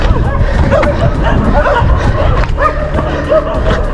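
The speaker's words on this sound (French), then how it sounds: "Écoutez tous les chiens, il y en a de partout." Several dogs bark repeatedly amid a noisy crowd babble at the Great Pyramid of Giza in Egypt, the barks overlapping and coming from different distances, some from up on the pyramid.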